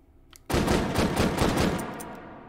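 A Webley-Fosbery revolver fires .455 Webley rounds in the H3VR virtual reality game, delivering a rapid string of about six loud, close shots that blur together before a short fading tail.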